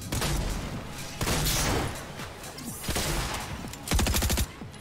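Loud, close bursts of shotgun and rapid gunfire from a breacher shotgun in a Fortnite match, several blasts in quick clusters with a dense rattling volley near the end.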